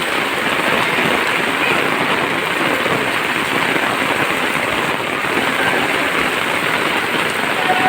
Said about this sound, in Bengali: ওরে বৃষ্টি রে, কি যে বৃষ্টি দেখেন